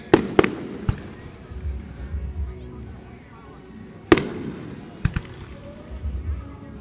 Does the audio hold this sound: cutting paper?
no